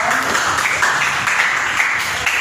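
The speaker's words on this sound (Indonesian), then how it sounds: "beri tepuk tangan dulu untuk Nabila" A classroom of students clapping for a classmate during a lesson, a short, even burst of many hands filling the room.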